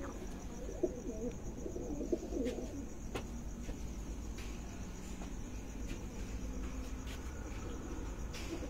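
Lakha pigeons, a male and a female, give low soft coos against a steady background of chirping insects, fairly faint and distant in the open.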